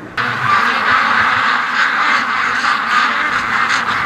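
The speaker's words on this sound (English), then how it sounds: "Every time the gust of wind picks up, the ducks do the freak out." Ducks quack in a loud, continuous panicky chorus at a charity duck-raising yard, some trapped at a small gate as gusts of wind blow, with steady wind noise underneath and no talking.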